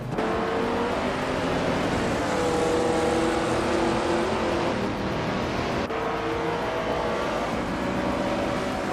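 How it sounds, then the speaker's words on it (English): Racing cars in a video game race, a 1971 Puma GTB among them, roar continuously with layered engine whine and shifting pitches, loud and steady throughout. "Autoli Artorias is kicking things off from pole position in a classic 1971 Puma GTB."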